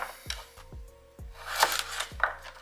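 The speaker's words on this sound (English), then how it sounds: "Peel your carrots, get that top layer off, and again, just rough chop." A knife rough-chops fresh peeled carrots on a board, with a few sharp, separate thuds and crunches spaced unevenly across a short stretch, close and crisp, no speech.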